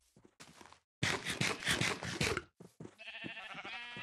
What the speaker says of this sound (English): Stay back, sheep.